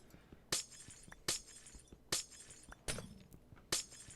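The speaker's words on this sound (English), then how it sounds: "Oh yeah, I forgot it sounds like glass when you break this stuff." Glowstone blocks in Minecraft break one after another with crisp, glass-like shattering, five evenly spaced bright cracks about a second apart, moderately loud and with no talk.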